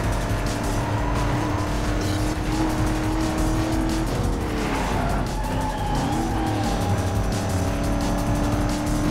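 A car in a racing video game skids through corners, its engine droning steadily while tires squeal in long sliding tones that rise and bend, loud and continuous with no talking.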